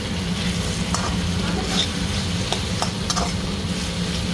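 Thick-cut mushroom pieces frying in spiced oil in a home kitchen, a steady loud sizzle throughout with occasional clicks and scrapes of stirring.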